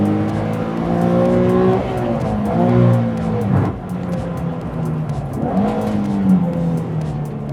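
A Nissan Fairlady Z Version Nismo Type 380RS, an endurance race car turned road car, revs its engine loudly and up close, the pitch climbing and falling in several swells.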